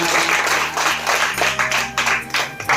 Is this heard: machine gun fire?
no